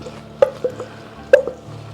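Basmati white rice added to a pot holding two cups of water and broth, giving two sharp wet plops and splashes with soft drips between them, close and fairly loud.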